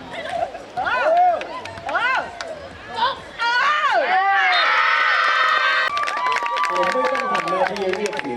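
Spectators at an AVC Beach Tour beach volleyball match between Thailand and Austria at the Samila Open shout and cheer loudly. Excited voices rise and fall in bursts, and a commentator talks over the crowd.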